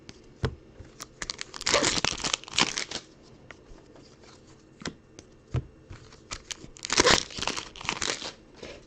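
Foil baseball card pack wrappers being torn and unwrapped, crisp crinkling bursts up close with quieter gaps of light handling in between, no talking.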